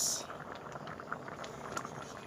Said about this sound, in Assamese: এয়া চাওক ধুনীয়াকৈ উতল আহি আছে।